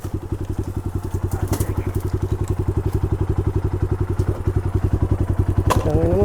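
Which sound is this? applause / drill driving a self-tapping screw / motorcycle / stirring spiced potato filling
motorcycle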